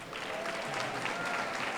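Audience applause for Zach at a National Philanthropy Day awards event, a steady wash of clapping from a room of people, moderately loud and unbroken for the short stretch, with no talking over it.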